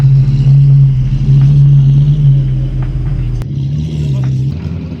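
A Nissan Skyline R32 rolls up at a car show with a deep, loud, steady engine rumble that eases slightly toward the end, while people talk nearby.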